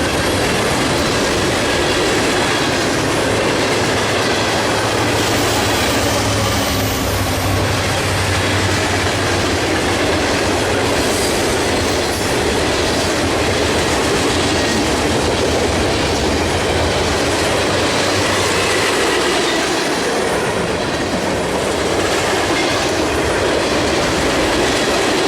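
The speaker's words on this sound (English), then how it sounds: "The Virginian Heritage Unit was serving as mid-train distributed power this afternoon." A freight train rolls past near Birmingham, Alabama, with the Virginian Heritage Unit locomotive running as mid-train power, a loud, continuous roar of wheels and clattering cars with occasional squeal, close and steady throughout.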